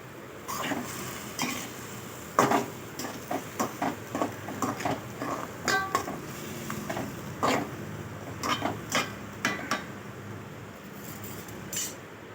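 A spoon stirs cluster beans kootu in a pan, giving a series of close, irregular scraping and clinking taps over a quiet background.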